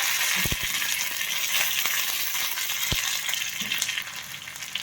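Ginger and curry leaves sizzle steadily in hot oil, a dense close crackle with a few sharp pops and clinks of a utensil.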